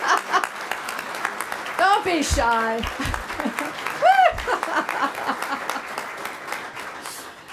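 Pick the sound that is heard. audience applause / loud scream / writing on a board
audience applause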